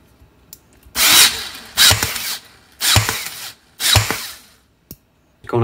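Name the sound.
Ryobi Air Strike nailer motor running during test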